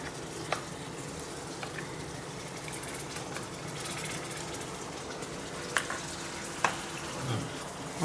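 Curd goes into a pan of sev shaak over a low flame, and a soft, steady sizzle follows, broken by a few faint scrapes of stirring.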